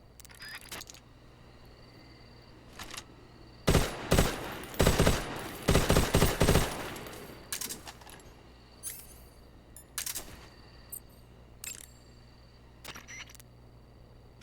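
Machine gun fire in Metal Gear Solid 3: Snake Eater, a couple of short rapid bursts in the middle with scattered lighter shots before and after over a quiet background.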